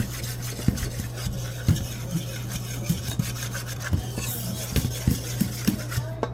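Cookie dough ingredients with baking soda being stirred in a bowl, a steady rubbing and scraping with irregular knocks against the bowl throughout, close and continuous.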